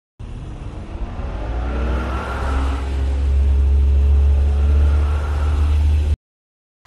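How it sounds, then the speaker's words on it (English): A speedboat engine roars steadily for about six seconds, a loud, close, continuous motor drone that swells slightly toward the middle, with no voices. "Speedboat."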